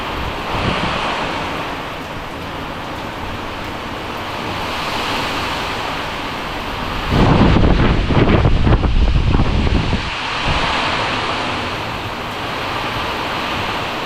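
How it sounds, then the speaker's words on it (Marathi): Heavy monsoon rain pours down as a continuous broadband roar, swelling into a louder, harsher burst midway before settling back to a steady downpour. "भरपूर जोरात पाऊस"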